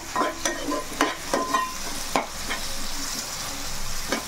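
Fish curry base frying in a pan with turmeric about to go in, a steady close sizzle with regular spoon strokes and scrapes for the first couple of seconds, then a continuous hiss, no talking.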